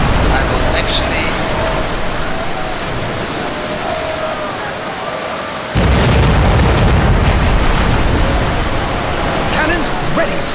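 Cannon fire in the naval strategy game Commander: Conquest of the Americas, a dense, continuous rumbling barrage of booms that grows heavier and louder partway through, with no speech over it.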